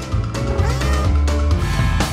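A cartoon cat meows loudly in a few drawn-out cries over a busy, dense animated soundtrack, up close and continuous for about two seconds.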